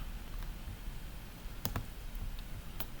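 A few sharp, isolated mouse clicks, faint and spaced apart over a low background hum, made while deleting a load balancer in the AWS console.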